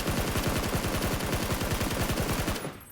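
Rapid automatic gunfire in a first-person shooter game, a tight, even burst of about two dozen shots fired in quick succession that stops abruptly, loud and close.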